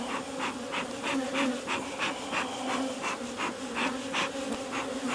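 Honeybees swarm around an opened hive during an inspection as rain moves in, a close, steady agitated buzz with rhythmic pulsing swells and no voices.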